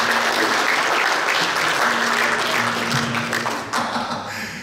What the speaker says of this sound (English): Big hand for Rachel, people.